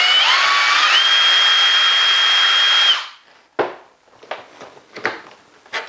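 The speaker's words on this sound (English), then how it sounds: "we can drill to the right, to the left, up or down, wherever we want to drill" A Bosch FlexiClick cordless drill runs continuously at a high, steady whine for about three seconds, with its pitch climbing briefly near the start. Scattered clatters and handling knocks follow once it stops.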